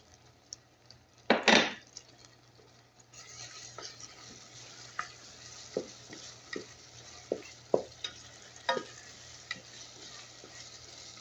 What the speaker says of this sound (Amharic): አሁን ነጭ ሽንኩርት እጨምራለሁ።